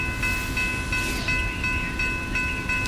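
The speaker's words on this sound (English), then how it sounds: "We hear the train there." A train passing in Charlotte, a constant loud rumble of rail cars with steady tonal hums and light clicking, continuous and close by without talking.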